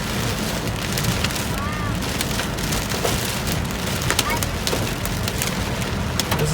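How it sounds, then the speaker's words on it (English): Hail falls hard in a hailstorm in Piedmont, a loud, dense, steady clatter of stones striking surfaces nearby, with a few brief voices faintly under the downpour. "Peter, it's hailing."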